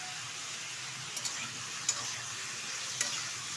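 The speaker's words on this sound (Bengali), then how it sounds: "এবার একটু ভালোভাবে ভেজে নেব।" Shukto vegetables frying in a pan give a steady, quiet sizzle, with a few faint scrapes and ticks from stirring, close and with no talking.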